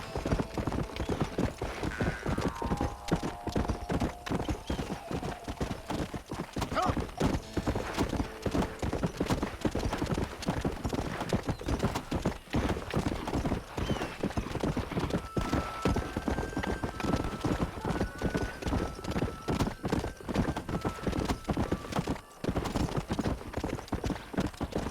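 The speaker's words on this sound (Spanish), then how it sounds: "El como suenan las pisadas no me gusta nada en este juego." Horse hoofbeats in the video game Red Dead Redemption, a steady fast galloping clatter that runs continuously and loudly throughout, with a brief neigh and soft game music tones mixed in.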